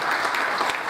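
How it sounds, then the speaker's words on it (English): Audience applause for lecturer Vinita at a silver jubilee lecture event, a brief steady burst of clapping from a crowd, dense and even throughout. "Vinita, big round of applause"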